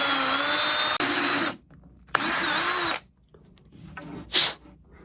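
A quarter-inch drill bores into the end of an ebony walking stick in two loud, steady runs of about a second and a half each, with a short pause between and some handling noise and scraping afterward.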